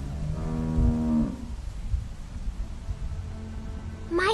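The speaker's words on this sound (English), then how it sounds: "How do you like that cow, Clem?" A cow moos in The Walking Dead video game, one loud, drawn-out low bellow near the start, then a quieter background with a brief higher sound at the end.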